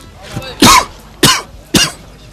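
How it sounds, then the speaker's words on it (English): Three harsh, loud coughs from someone sick with a bad cold, spaced about half a second apart, close to the listener and with no talking between them. "I'm coughing every 5 minutes."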